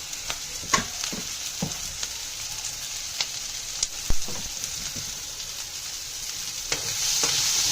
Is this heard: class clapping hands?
no